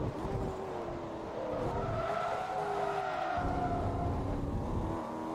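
Race car in Forza Motorsport 2 skidding out of control, with tires squealing in wavering tones over a continuous engine roar, sustained throughout with shifting pitch.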